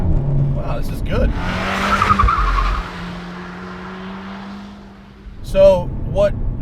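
A modified VW Mk7 Golf R on full track suspension drives hard, its engine roaring steadily while the tires squeal and skid for a couple of seconds, with people talking before and after.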